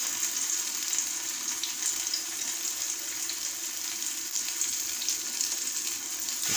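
Chili, shallot, garlic and candlenut paste frying in hot oil gives a steady, even sizzle with bright crackle throughout, close and moderately loud, without speech.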